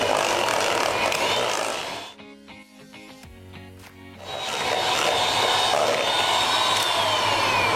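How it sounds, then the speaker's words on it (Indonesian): An electric hand mixer whirs steadily through cake batter with egg and cheese for a black glutinous rice steamed cake, loud and continuous, dropping briefly to a quieter clattering pause before running again. "Mixer kembali sampai semua tercampur dan merata."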